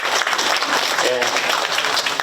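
An audience at a Korean community gathering in Northern California applauds a former Overseas Koreans Foundation chairman, a brief burst of clapping with a voice speaking over it.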